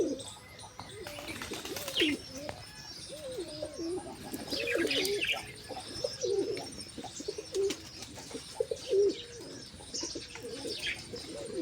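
Pigeons, including black pigeons and their chicks, coo and chirp in a lively, overlapping chorus at close range, with a few brief wing flaps and no speech.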